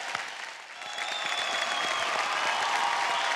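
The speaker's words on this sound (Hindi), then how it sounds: "एक बार अलका जी और आदि के लिए जोरदार तालियां।" Loud, steady applause from a television singing-competition studio audience, sustained and building slightly over a few seconds with dense crowd clapping.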